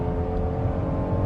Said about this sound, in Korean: 지금 엑셀 끝까지 맞고 가속을 했거든요